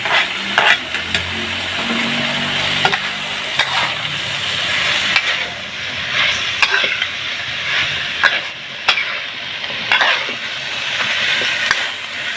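Spices, tomato, onion and green chili sizzle and fry in a pan while being stirred, giving a steady loud crackle punctuated by scraping clicks of the utensil against the pan.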